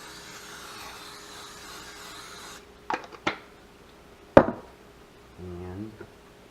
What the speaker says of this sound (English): Going to spray it again with domestic spray.